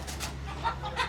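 A few soft chicken clucks on a mountain farm in Cebu, fairly faint, over a low steady background hum.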